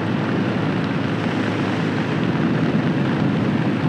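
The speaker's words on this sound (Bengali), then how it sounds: "উইন্ড ব্লাস্ট প্রচুর পরিমাণে হচ্ছে।" Loud, continuous roar of wind blasting past a rider on a Suzuki Gixxer Monotone motorcycle at speed, a steady broadband rush with no pauses.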